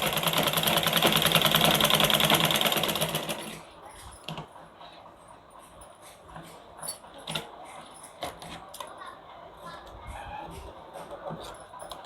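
A sewing machine stitching a blouse collar runs in a fast, loud, even whir for a few seconds, then stops, leaving quieter fabric rustles, clicks and handling sounds close by.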